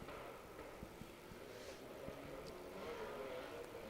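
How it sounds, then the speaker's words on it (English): BMW rally car on a special stage of the Cambrian Rally, heard as a faint, distant engine drone with a few brief knocks over steady outdoor background. "This is the BMW of Dan Chester and Paul Barbett"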